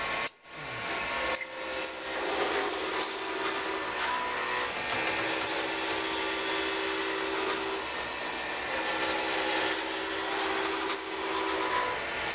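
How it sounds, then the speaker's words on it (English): Drill bit boring into an acrylic pen blank with a vacuum running, a steady loud whining hum with grinding texture throughout, a brief dip near the start, no talking. "So the vacuum helps keep the drill bit cool."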